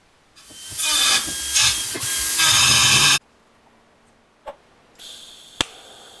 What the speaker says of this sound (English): So let's go ahead and try out those new TIG welding skills.